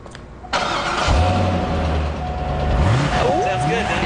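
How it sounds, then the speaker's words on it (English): A Chevrolet Corvette C5 engine cranking and catching with a sudden burst, then settling into a loud, steady idle with a low throbbing rumble and a few revving swells. "Would you like to start the car?"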